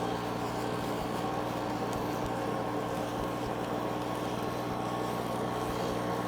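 A side-by-side utility vehicle's engine runs in a steady, continuous rumbling drone with a broad noisy wash over it, holding a fairly loud even level throughout with no talking.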